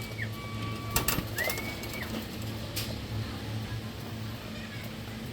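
Birds call outdoors during bird training in Tanay, with soft whistled notes over a steady low cooing murmur that continues throughout at moderate distance.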